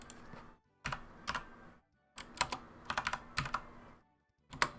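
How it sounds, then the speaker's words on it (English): Bursts of clacky typing on a very loud computer keyboard, close up, with rapid clusters of keystrokes separated by brief silent pauses. "My super loud keyboard could not be louder."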